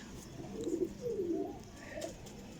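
Pigeons coo in a steady series of low, rolling calls, close and moderately quiet against soft background noise. The birds are prized breeder pigeons.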